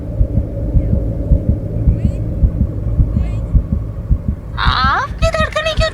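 A steady heartbeat sound effect in a Hindi TV drama thumps in a regular rhythm throughout, loud under a low hum, with a voice briefly speaking near the end.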